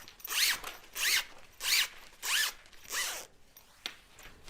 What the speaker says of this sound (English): move the slides into the marked sections of the zipper tape